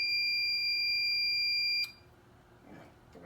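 A Firelight fire alarm panel buzzes with a loud steady electronic tone, then falls silent as the panel is reset, leaving quiet room noise and a couple of soft relay clicks.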